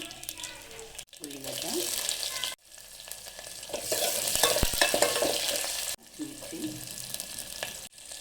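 Mustard seeds, cumin, garlic and dried red chilies tempering in hot oil for senaga charu, a steady bright sizzle with stirring, broken by brief gaps near the start, middle and end.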